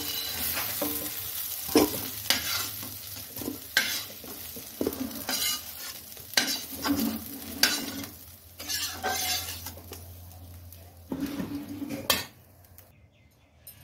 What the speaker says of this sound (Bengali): বন্ধুরা, আলুগুলো লাল করে ভাজা হয়ে গেছে